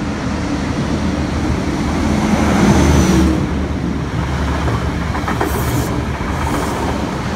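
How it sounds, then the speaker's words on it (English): A Grafton XPT passenger train runs through platform 2 at Pennant Hills station, a loud continuous rumble of wheels and carriages that swells midway and holds steady throughout. "Grafton XPT about to pass through platform 2 at Pennon Hills."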